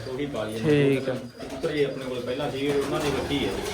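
Soft, repeated pigeon coos run through the clip, mixed with people talking nearby.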